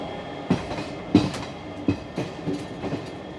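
A train hauled by EMD and G-class locomotives runs on a Mysuru to Hubballi special, its wheels giving rhythmic clickety-clack thumps roughly every two-thirds of a second over a steady rolling rumble.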